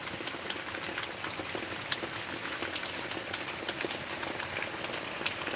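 Rain falls on a farm in a steady, even hiss of many drops pattering on a surface, constant and moderately faint throughout with no voices.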